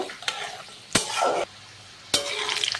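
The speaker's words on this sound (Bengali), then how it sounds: "আর এর সাথে আমি দিয়ে দেবো কাজু বাদাম কিশমিশ সব কিছুই আমি হালকা করে ফ্রাই করে নেব" Cashews and raisins frying lightly in oil for navratan pulao, a close crackling sizzle that surges in three bursts as they are stirred, with spatula scrapes and no voices.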